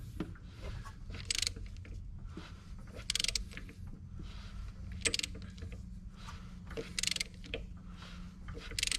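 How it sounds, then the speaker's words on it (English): An engine turned over slowly by hand to move the fuel pump push rod, giving faint mechanical clicks and creaks in a regular rhythm of about one every two seconds, close and quiet, with no speech. "I'm going to turn the engine over, and you're going to see how much this push rod moves to operate the fuel pump"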